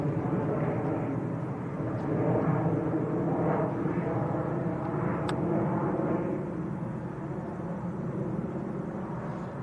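An airliner departs steeply from Manchester Airport, heard as a steady, distant jet roar and rumble that holds for several seconds, with a faint sharp click partway through.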